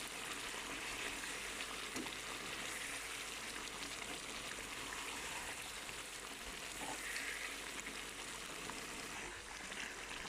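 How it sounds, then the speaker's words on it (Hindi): Chicken meat frying in a karahi, a continuous steady sizzle with faint watery bubbling, close and even throughout with no talking. "तकरीबन गोश्त हमारा अच्छी तरह फ्राई हो गया"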